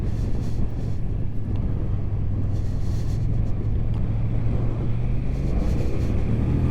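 A big V-twin motorcycle engine runs steadily while riding on a rough track near Fort William, a constant low throbbing drone with wind rush layered over it, close and loud throughout.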